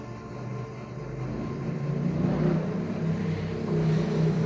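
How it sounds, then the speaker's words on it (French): A motorcycle engine runs nearby outdoors, a steady low rumble that slowly builds in loudness with a faint rising revving hum, continuous throughout without speech. "Désolé pour le bruit de la moto."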